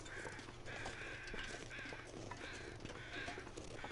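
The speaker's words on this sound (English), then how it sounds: "I can hear some birds." Crows caw in a snowy wilderness in The Long Dark, harsh repeated calls coming in a loose rhythm about every three quarters of a second, faint and a little distant over a soft background.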